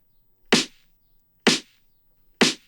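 A snare hit three times in a steady beat about one second apart, each crack bright and sharp with a short decay, alone with no other instruments.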